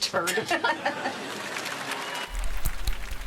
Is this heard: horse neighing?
no